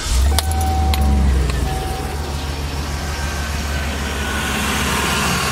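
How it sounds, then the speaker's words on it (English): Keys jangle in the ignition and the engine of a Roadtrek camper van starts, settling into a steady low idle that continues to the end. "So all you do is turn on your vehicle."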